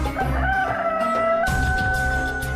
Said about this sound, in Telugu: ఇది కోడి కూత అంటే దాని అర్థం తెల్లారిపోయిందని